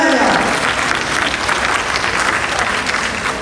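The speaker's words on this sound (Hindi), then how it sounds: "ताली बजाओ भाई, तभी तो मजा आएगा।" An audience claps steadily throughout, a dense, loud wash of applause from a crowd at a session, with a voice briefly audible underneath.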